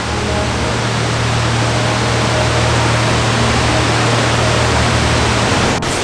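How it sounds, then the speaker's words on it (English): Multiple waterfalls at Janet's Foss and Gordale Scar in North Yorkshire: a loud, steady broadband rush of falling water with a low hum beneath it, continuous throughout and with no talking. "There's multiple waterfalls"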